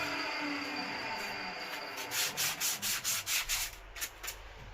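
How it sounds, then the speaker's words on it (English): A speaker cable boot has burrs sanded off its edges, first as a steady faint rub and then as about eight quick, rhythmic scraping strokes, close by and with no talking. "I'll take the burrs off of the edges there."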